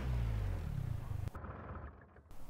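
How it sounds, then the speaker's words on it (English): A car engine in the video game SCUM rumbles low and loud, then cuts off abruptly, leaving a quieter, thinner hum. "I can hear a car. I can hear a car."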